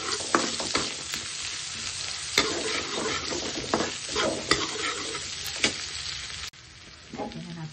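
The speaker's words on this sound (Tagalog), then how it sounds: "Isama natin ang ating sibuyas, bawang. Sabay na natin gawin yung luto." Butter, garlic and onion sizzle loudly in a pan alongside a pork chop, a steady close frying crackle broken by repeated scrapes and stirring knocks, dropping quieter near the end.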